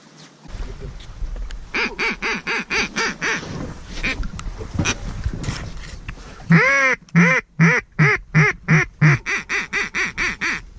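A pintail duck calls during a duck hunt, giving a loud, close series of rhythmic nasal quacks. A brief lull is followed by a faster, sharper run of repeated calls.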